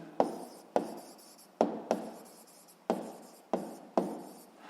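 Chalk or marker writing on a board in a classroom, seven sharp taps, each followed by a short scraping stroke, spaced irregularly and heard close with no talk.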